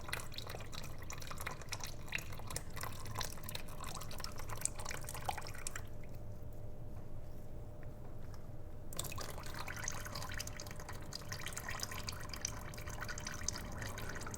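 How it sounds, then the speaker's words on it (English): Engine oil drains from a HiSun Stryker UTV in a steady, close trickle and patter. The pouring runs without a break, with a quieter stretch midway. "We'll let some of this drain off so it doesn't splash my wife when it comes down"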